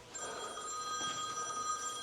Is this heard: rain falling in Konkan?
no